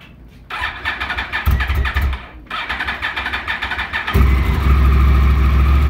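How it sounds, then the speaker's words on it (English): A Yamaha R1 sport motorcycle cranks and fires up close and loud, stuttering through a few rough bursts before catching into a steady, throaty idle. "Start the bike."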